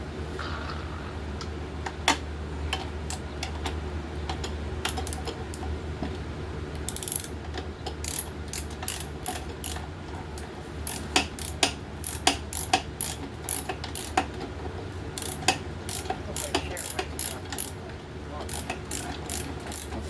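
A ratchet with a 13 mm socket tightens a wheel bolt on a Toro Recycler 22-inch self-propelled mower with a broken front wheel. Bursts of fast, close clicking come in repeated strokes with brief pauses between them.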